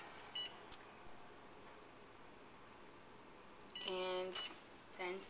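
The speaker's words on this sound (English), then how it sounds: "Now we're going to set the timer for 25 minutes." A kitchen oven timer being set for mini pineapple upside-down cupcakes gives a burst of quick electronic beeps near the end, with a couple of brief chirps earlier, over a quiet room hiss.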